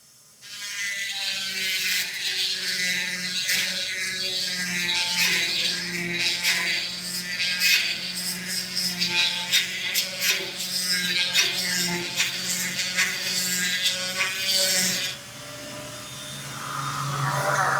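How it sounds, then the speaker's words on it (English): A small Dremel rotary tool with a little bit grinds on a Go Power Sports Rascal GT Cruiser, a steady high-pitched whine held close for about fifteen seconds before cutting off. "Let me get my tool. Hold your ears, folks. This might be a little on the loud side. It's what we use here, a little Dremel"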